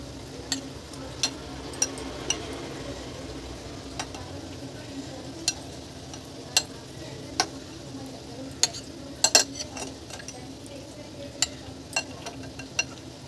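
Soaked urad (biuli) dal batter being whisked by hand in a bowl, with irregular light clicks and taps against the bowl over a steady soft scraping texture, close and fairly quiet, no talking.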